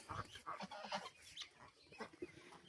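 Several chickens cluck close by on a farm in quick, irregular bursts, a busy, fairly quiet chatter of hens.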